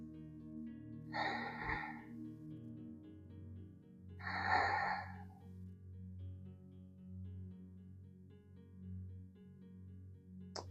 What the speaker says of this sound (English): Stay here for 3 breaths.